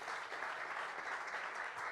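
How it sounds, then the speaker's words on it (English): Dense audience applause fills a handball arena, a steady, even wash of many clapping hands with no breaks across the whole stretch. "can we have a massive round of applause for our 4 stars that are here today, please?"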